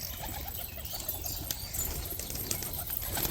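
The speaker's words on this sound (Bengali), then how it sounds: "দেখো এক এক সব পায়রা বেড়েই যাচ্ছে।" Pigeons released from their loft flap and coo close by, with bursts of wingbeats over a steady background of bird calls.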